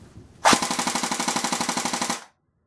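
A Golden Bow RPK airsoft gun fires one full-auto burst of roughly two seconds, close and loud, with a fast, even mechanical rattle that stops abruptly.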